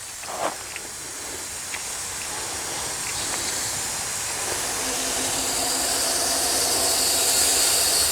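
A Soule steam engine, an old stationary unit being revived for a first run in years, is fed steam: a broad, steadily building hiss that grows louder and fills the space, with a few faint clicks early on.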